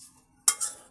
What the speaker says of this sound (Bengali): মশলার সঙ্গে মিশিয়ে নিচ্ছি